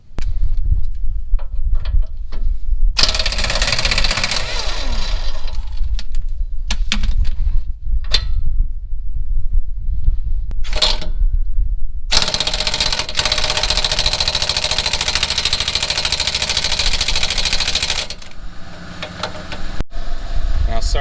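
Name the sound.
air compressor running loudly in a garage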